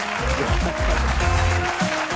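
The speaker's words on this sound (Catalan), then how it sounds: "Un aplaudiment per l'Òscar" Dense, steady applause from a TV studio audience on a Catalan talk show, loud and continuous, with music or low voices blending underneath.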